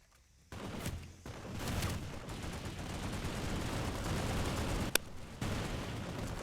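Gunfire from a line of soldiers in the PlanetSide 2 video game, heard as a sustained, dense rattle of shots that fills most of the clip, with one sharp crack near the end and a brief lull before firing resumes.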